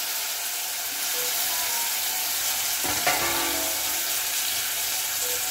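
Clams (shimpli) dropped into hot oil give a steady, close frying sizzle throughout, with a brief clatter and louder burst of hiss near the middle as they hit the pan; no one speaks.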